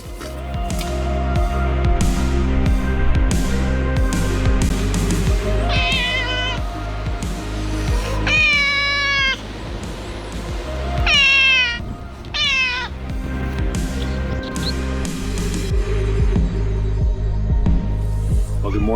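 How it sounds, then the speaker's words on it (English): Several friendly cats meowing repeatedly near a small camper on a road trip in Kyushu, Japan, with drawn-out, rising and falling calls in bursts over a steady low hum, fairly close and loud. "Excuse the cat noises."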